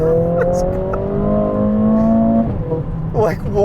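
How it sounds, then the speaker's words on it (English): A 2020 Mercedes-AMG CLA 45 launches in Sport Plus mode: its engine note climbs steadily and loudly, then drops abruptly at a gear change near the end, with a brief voice at the close. "I'll put it in Sport Plus, give it a little bit of a launch, so here we go."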